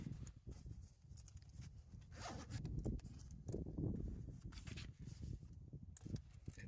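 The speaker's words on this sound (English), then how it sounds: "let's zip" Zipper on a pocket of a rubberized, nearly waterproof bag being zipped closed, a continuous scratchy rasp of several pulls over a few seconds, close up with no talking.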